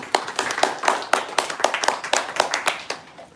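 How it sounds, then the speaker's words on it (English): A small audience at a blockchain fireside chat claps in sparse, uneven hand claps, fairly close and moderately quiet, tapering off after a few seconds. "Let's give them a round of applause real quick."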